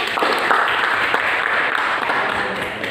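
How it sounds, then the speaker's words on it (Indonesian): A classroom group claps together for a student team, a steady, dense patter of many hands lasting the whole stretch at fairly close range, with a few voices mixed faintly into the clapping. "Tepuk tangan untuk kelompok 1."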